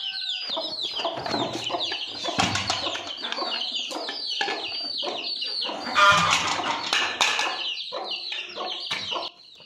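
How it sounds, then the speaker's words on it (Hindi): Village hens squabble with each other in a burst of rapid clucking and squawking, wings flapping in loud flurries, the commotion swelling near the middle and continuing close by until an abrupt stop. "ये हमारी जो कुकड़ी है वो लड़ पड़ी है आपस में"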